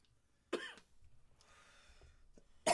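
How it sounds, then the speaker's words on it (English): Two separate coughing fits from smoke, the first a harsh cough with a rough throaty edge, then quiet breathing before a second cough starts abruptly at the end. "I'm coughing from her smoking."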